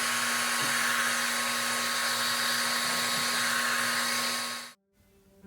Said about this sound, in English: using the RevAir Dryer cuts down the drying time tremendously